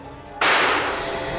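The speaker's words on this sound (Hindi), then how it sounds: "गोली चल गई?" A single sharp gunshot cracks out suddenly, loud and close, followed by a lingering noisy decay.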